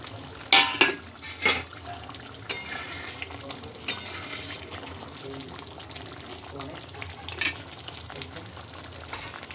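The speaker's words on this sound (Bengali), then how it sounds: "এর মধ্যে এবার দিয়ে দেবো ভাজা চিংড়ি মাছগুলো।" Fried prawns going into simmering malaikari gravy in a pan, close sizzling and bubbling with a few clattering spoon and pan knocks early, steady frying underneath.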